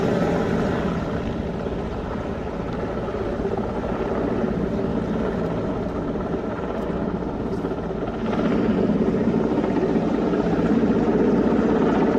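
A helicopter flies over a mountain valley, its steady broadband rotor and engine drone rumbling continuously and fairly loudly throughout, swelling slightly near the end, with no voices.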